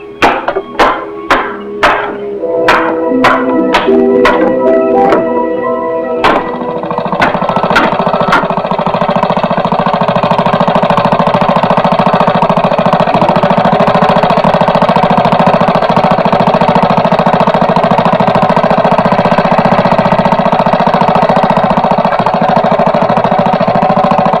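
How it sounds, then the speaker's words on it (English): A loud engine sputters and coughs through several sharp bangs, then settles into a steady, droning run that continues for a long stretch. "You gotta get this engine hooked up."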